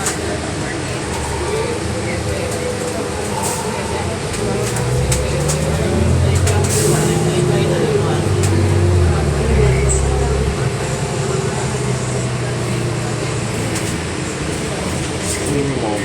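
Crowded public bus in motion on a city route, heard from inside the standing-room-only cabin: a steady low engine and road rumble with rattles and murmuring passengers throughout.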